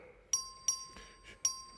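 A voting bell rings in a state House chamber to call a record vote, three bright, ringing chime strikes at irregular intervals over a quiet room.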